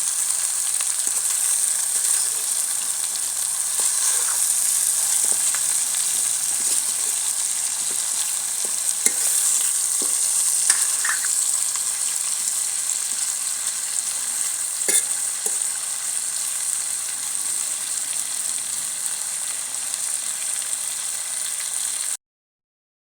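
Spices sizzle steadily in hot oil for tempering a ginger, amla and green chilli pickle, a continuous loud frying hiss with faint stirring clicks and no talk, cutting off abruptly at the end.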